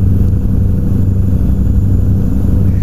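In American Truck Simulator, a Kenworth W900B's Caterpillar 3406E diesel engine drones loudly and steadily, a deep, rumbling mid-range engine tone with no talk over it.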